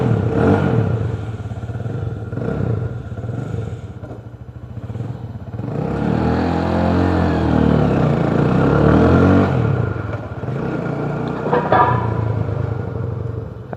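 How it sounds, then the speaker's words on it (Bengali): A motorcycle engine idles and revs after being started, its loud, continuous rumble rising and falling with throttle blips, with some clattering nearby and no talk over it. "এই বাইকের সাউন্ডটা যে আমার এত ভালো লাগে, বাইকটা স্টার্ট দিলেই"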